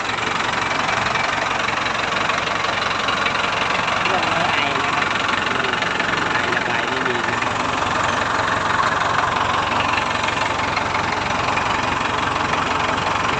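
A Ford 6610 tractor's diesel engine idles steadily with a continuous rumbling drone and faint knocking, close by, for the whole stretch.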